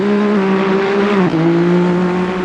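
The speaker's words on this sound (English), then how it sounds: "we're currently watching Luis in his Nissan GTR." A Nissan GT-R race car in a video game at Circuit of the Americas holds a steady high-pitched drone, briefly dipping in pitch midway as if shifting, then settling into a loud continuous roar.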